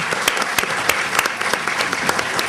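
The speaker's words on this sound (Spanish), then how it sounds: "Aplauso para la señora María Lucía Carrillo." Audience applause for a guest at a formal women's event, a close, steady patter of many hands with sharp individual claps standing out, no speech over it.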